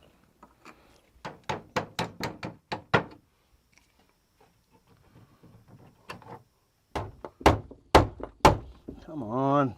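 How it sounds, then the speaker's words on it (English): A wooden door being taken off its hinges makes a run of sharp knocks and thumps, then a quiet stretch of softer handling noises and a second burst of loud blows, ending with a brief creak. "Got to pull the hinges, take the door off, and then we can get the barrel out."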